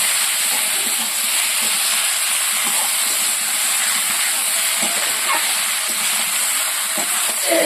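Boiled jackfruit sizzles with spice masala in a hot pan, a loud steady hiss of frying running unbroken throughout with occasional soft stirring taps and no talk.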